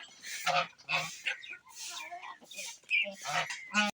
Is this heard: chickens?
yes